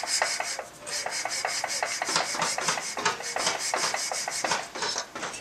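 Hand lapping of a 1973 Husqvarna CR400 motorcycle crankshaft taper, a rapid rhythmic gritty rubbing and rasping of metal on metal, close and continuous.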